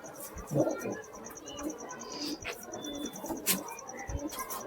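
Faint, soft cooing from open-tailed pigeons kept by a fancier, rising in a few low bursts over a quiet, hissy background. No one speaks.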